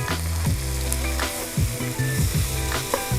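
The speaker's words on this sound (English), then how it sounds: "take 2 tablespoons of flour and lightly dust over the top and mix as we go" Sliced mushrooms sizzle steadily in a hot pan as flour is dusted over and stirred in, with scraping utensil strokes and clattering bumps against the pan recurring throughout over the continuous frying hiss.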